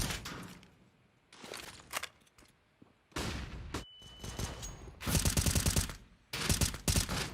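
Pistol fire rings out in a Counter-Strike match between Eternal Fire and FNATIC at the PGL Major Antwerp 2022, with several sharp bursts of shots separated by short quiet gaps that grow louder and denser toward the end.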